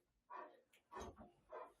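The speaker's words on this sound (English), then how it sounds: "That's my dog." A dog at home gives three or four soft, faint barks and yips, spaced unevenly over about two seconds in a quiet room.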